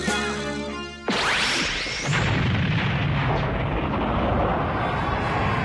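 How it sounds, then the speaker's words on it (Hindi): A sudden loud boom followed by a rushing, crackling roar that sustains and slowly thins out, like fireworks bursting close by. "बस थोड़ी सी आतिशबाजी है"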